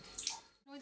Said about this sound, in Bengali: আমাদের অক্কবাবু দেখো কি সুন্দর বসে বসে স্নান করছে বড়দের মতো।